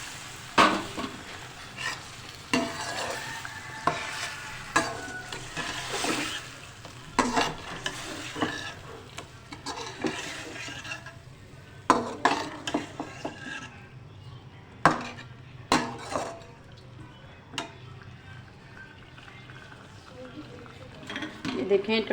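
Chicken sizzles in a pan while being stirred, with repeated sharp scrapes and knocks of the utensil against the pan over a steady frying hiss; a voice talks intermittently.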